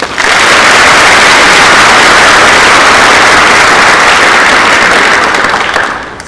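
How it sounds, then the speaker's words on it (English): Sustained, loud applause from a large audience at a National Honor Society induction ceremony, a dense wash of clapping that holds steady for several seconds before tapering off at the end. "Let's give one more warm round of applause to all of our wonderful speakers."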